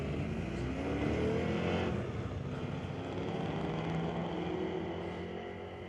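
Street-legal drag race cars, a father and daughter side by side at Mission Raceway Park on a Friday night, roar down the strip in a loud, sustained engine blast that holds steady throughout, with no talking.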